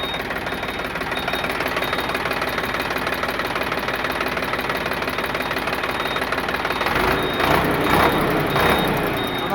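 A 2022 Sonalika RX 47 DI tractor's diesel engine runs at idle, close and loud, with a steady knocking chug. Near the end, a few mechanical clunks and rattles cut into it briefly.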